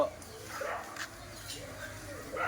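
A few short dog barks and yips, fairly faint and spread out, with a person talking in the background.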